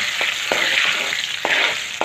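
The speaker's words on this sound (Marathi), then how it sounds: "आता हा लसूण आपला छान प्रकारे परतून झालेला आहे" Garlic sautéing in hot oil for a tangy Maharashtrian chuka vegetable dish, a steady close sizzle and crackle with occasional stirring scrapes, loud and continuous, no voices.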